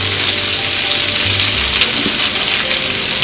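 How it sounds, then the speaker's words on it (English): Green peas dropped into a hot pan of vegetables, giving a loud, dense, steady sizzle and crackle with faint scraping of stirring, heard alone without talk. "So now I'm going to be adding my green pea"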